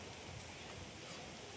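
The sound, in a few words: rain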